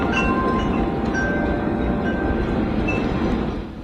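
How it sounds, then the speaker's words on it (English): Strong snow squall wind roars steadily with a deep, rushing rumble, and faint high tones of wind chimes ring briefly above it. "Take a listen to how strong the winds are."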